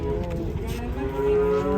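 A dwarf cow lets out a low, drawn-out moo close by, heard over a noisy outdoor cattle market with a busy rumbling background.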